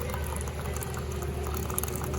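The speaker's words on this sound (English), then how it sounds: "All you gotta do is add hot water into this cup" Hot water pours steadily into an espresso cup to make an Americano at a Dunkin' Donuts counter, a continuous close liquid rush and fill with a faint hum of machinery underneath and no talking.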